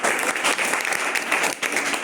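Enthusiastic applause during a Hindi-language chemistry lesson on special nomenclature: dense, continuous clapping from a group that stays steady and loud for about two seconds, with a brief dip near the end.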